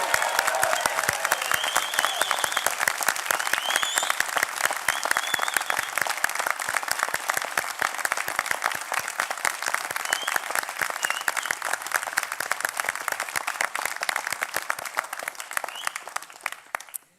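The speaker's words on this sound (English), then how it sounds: "raise the roof with a big loud cheer for the Southwest College graduates" A graduation crowd at a Southwest College ceremony bursts into sustained loud applause and cheering, dense clapping that holds steady for the whole stretch before tapering slightly at the end.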